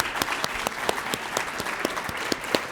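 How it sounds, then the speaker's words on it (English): Applause at a partners' meeting panel and closing session, fairly sparse and close, with individual claps clearly distinct in a loose, uneven rhythm at moderate volume. "love to give you a round of applause,"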